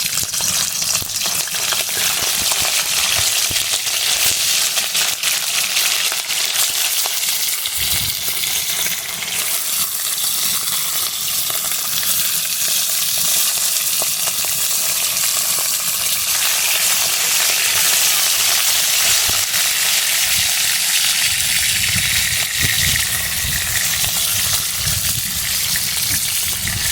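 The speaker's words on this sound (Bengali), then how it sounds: "তেলটা গরম হয়ে গেছে, এবারে মাছগুলো হালকা করে ভেজে নেব" Fish frying lightly in hot oil in a pan outdoors on a windy day, a continuous loud sizzle and crackle running steadily throughout with occasional stirring noises and no talking.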